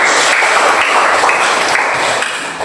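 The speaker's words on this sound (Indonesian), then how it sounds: "Kita berikan dulu aplaus kepada" A classroom of students gives a fellow student a round of applause, dense loud clapping from many hands that holds steady for a few seconds before tapering slightly.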